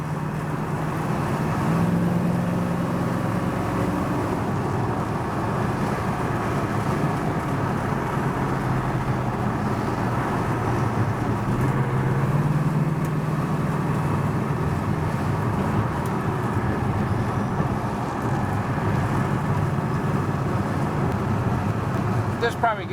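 A 1965 Ford Mustang coupe cruises northbound on the I-5 freeway, its engine and road noise forming a steady, moderately loud drone heard from inside, while someone talks over it throughout.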